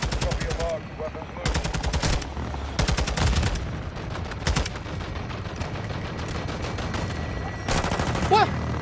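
An aircraft gun run in Call of Duty Modern Warfare II, with rapid bursts of heavy automatic fire in several long volleys, loud and close, separated by brief pauses and distant rumbling.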